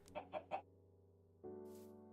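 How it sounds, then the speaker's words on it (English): A video game chicken gives three quick clucks in a row, then steady electronic game music tones carry on alone. "Hello, chicken."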